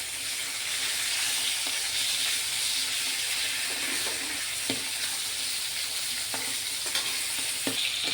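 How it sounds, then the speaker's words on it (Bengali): Lailotika fish pieces fry lightly in a pan with a continuous close sizzle and hiss, broken by a few soft knocks from stirring. "এখানে হালকা করেই ভাজতে হবে।"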